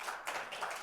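Brief burst of audience applause at a college football press conference introducing new head coach Jason Eck, with quick, moderately loud clapping that swells and dips.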